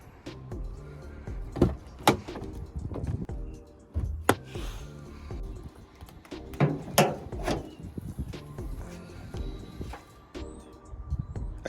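An Alfa Romeo's bonnet is released and lifted, giving a run of sharp clunks and knocks from latch and panel, with a few louder hits spread across the stretch and no talking.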